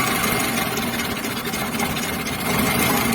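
A Triumph T120SS motorcycle engine idles unevenly with one spark plug cable pulled, giving a steady, close, limping drone with no other sounds.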